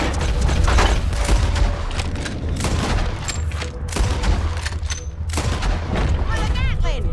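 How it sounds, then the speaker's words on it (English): Gatling gun fire in Red Dead Redemption 2, loud rattling bursts of rapid shots running through most of the stretch with booming low rumble underneath. "Well, a Gatling."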